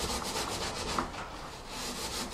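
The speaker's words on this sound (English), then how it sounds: "I'm going to use my screwdriver and I'm just going to take the edge off down there" Screwdriver scraping grease off the edge of an oven, a quiet rhythmic rasping repeated in short strokes with no talking.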